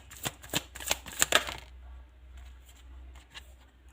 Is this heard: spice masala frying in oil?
no